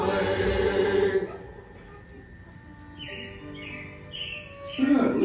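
Robin-like birdsong chirps at a Disney attraction at Magic Kingdom, a few bright tweets repeating after fading music, moderately close with no talk.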